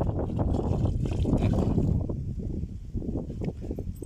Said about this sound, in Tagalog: Wow, kalakas ang hangin.